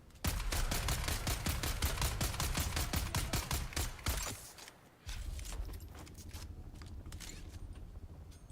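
Rapid automatic gunfire from the video game Dune Awakening, a dense burst of evenly spaced shots for about four seconds, then a short pause and softer scattered shots with game ambience.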